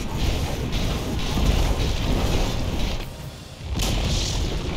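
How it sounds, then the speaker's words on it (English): A tower collapses in Dota 2, heavy booming crashes and rumbling destruction that stay loud through most of the moment, with a brief dip before a final burst. "Dire's top tower has fallen"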